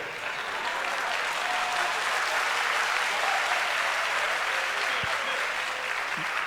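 A live audience at a French conference on digitalisation, training and youth employment breaks into loud, sustained applause that fills the room evenly throughout.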